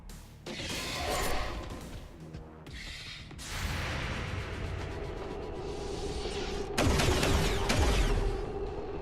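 Rapid bursts of machine pistol gunfire in an XCOM-style tactical shooter game on nightmare difficulty, sharp loud cracks with whooshes and mechanical clatter, a heavier blast toward the end.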